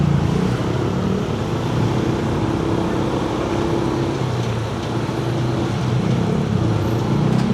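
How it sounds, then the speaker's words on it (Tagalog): Road traffic rumbles steadily near a river bridge under rehabilitation on E. Rodriguez, a continuous low wash of passing vehicle engines with no distinct single pass, fairly close and even in level. "Yan, traffic na."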